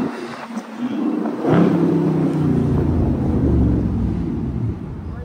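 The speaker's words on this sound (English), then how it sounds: "Give y'all a little rev real quick" Outdoors in traffic near Times Square, a car engine revs into a loud, sustained roar with heavy low rumble and wind noise that holds for several seconds.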